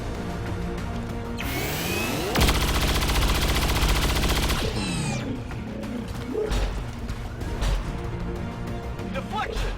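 Automatic gunfire from XCOM 2 soldiers rakes a sectopod in a two-second rapid burst, followed by scattered impacts, clanks and mechanical noises over a busy game soundscape.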